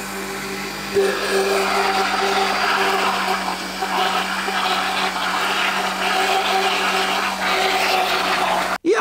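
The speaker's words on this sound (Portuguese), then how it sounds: "Agora, mete a tampa e bora bater" A blender whirs continuously while mixing liquid sour cassava starch biscuit batter, a loud steady motor drone that cuts off sharply near the end.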